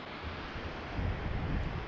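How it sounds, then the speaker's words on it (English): A small waterfall at a campsite gives a steady, fairly faint rushing of falling water, a continuous broadband wash that swells slightly partway through. "There's your waterfall, bro."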